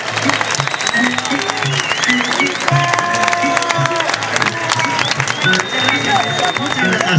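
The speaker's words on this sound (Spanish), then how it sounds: "queremos que ustedes les brinden el máximo aplauso" A live audience applauds at an event, a dense steady patter of clapping running the whole stretch under voices and some tonal, music-like sound.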